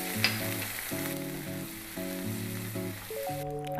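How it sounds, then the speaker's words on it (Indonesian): Croquette filling sizzles loudly and steadily in a frying pan after a little water is poured in, with a constant hiss, while a melodic background tune plays over it. "Kalau sudah agak kering ini, kita akan tambahkan sedikit air."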